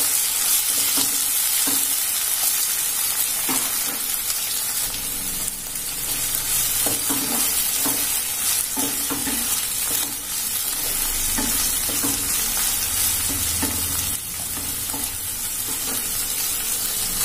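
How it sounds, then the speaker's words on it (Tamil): Finely chopped large tomato sautéing in a pan for chicken curry dosa, a steady bright hiss of frying with repeated soft stirring scrapes throughout, close up, with no speech. "ஒரு பெரிய தக்காளி கட் பொடியா கட் பண்ணியிருக்கேன், இது சேர்த்தலாம். இதையும் நல்லா வதக்கிக்கணும்."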